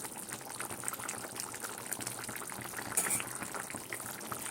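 Cauliflower and potato curry in yogurt gravy bubbling in a pot, a steady, fairly faint simmering hiss with soft bursting bubbles throughout, no voices.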